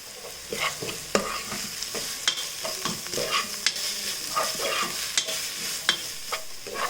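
Vegetables with rounds of sliced green chili and mint sauté in a pan for a spiced meat porridge. Steady frying sizzle runs throughout, broken by frequent close scraping and tapping stirs, with no voices.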